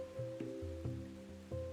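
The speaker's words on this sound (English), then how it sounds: "The rain came out of nowhere, the curtain of water obscuring the view from the terrace" Steady rain from the video game Wanderlust: Travel Stories, a continuous soft wash over a low droning tone with faint periodic swells, no voices.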